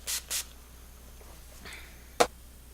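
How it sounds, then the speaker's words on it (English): Two quick hisses of Finish setting spray mist onto a makeup brush close up, short sharp bursts in rapid succession, followed by a faint tap. "spray this brush with my Finish Spray setting spray"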